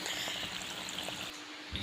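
Irrigation water flows steadily across a dried-out tomato field on a farm, a soft continuous pouring trickle, fairly faint, with a brief dip near the end.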